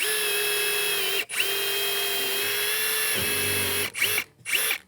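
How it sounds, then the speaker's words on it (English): A power drill whines steadily as a cutter head bit bores screw-head holes into framing material, pausing briefly a few times near the end. "now we're gonna try to drill a few holes with a cutter head"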